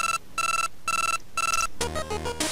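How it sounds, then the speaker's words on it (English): A synthesized chiptune phone ringtone from the Game Boy Color game Keitai Denjuu Telefang, loud and close, with three short bright beeping bursts separated by brief gaps before game music takes over. "You got a phone call now."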